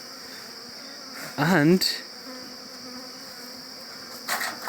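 Honey bees buzz at a hive during honey harvest, the hum rising in two brief close bursts, one near the middle and one at the end, with a faint steady drone between them.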